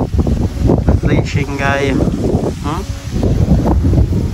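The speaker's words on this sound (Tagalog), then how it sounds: "Grabe katsadang hangin." Strong wind sweeps across open countryside, roaring and buffeting steadily and close throughout. Someone speaks briefly over it.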